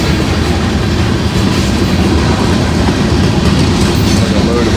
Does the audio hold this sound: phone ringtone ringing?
no